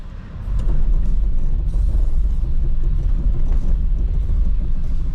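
A truck's crawl control runs in 4 low over snow, a loud, steady low engine rumble that swells after a quieter start and then holds evenly, with no talking.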